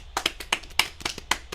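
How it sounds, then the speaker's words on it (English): A small audience gives a brief round of applause, a handful of separate, crisp hand claps in an uneven rhythm, close and fairly quiet. "Let's give a little round of applause here"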